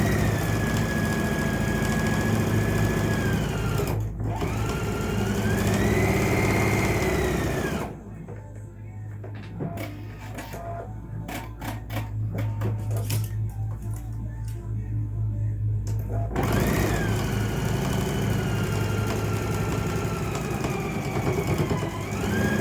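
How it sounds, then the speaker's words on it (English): A sewing machine stitches along the bottom edge of a fitted fabric face mask with a filter pocket, a steady droning hum with a brief break and a burst of clicking in the middle. "we're gonna sew along the bottom part"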